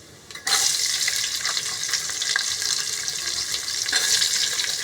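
Onions hit hot oil in a pan and start frying with a sudden loud rush of sizzle, settling into a steady bright hiss with faint stirring crackles, nearby and alone.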